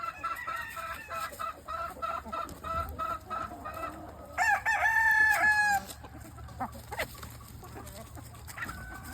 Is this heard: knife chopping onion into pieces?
no